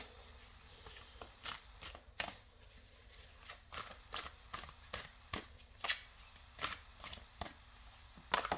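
Tarot cards are shuffled repeatedly nearby, soft riffling swishes and flicks in an uneven rhythm, fairly quiet, with no voices.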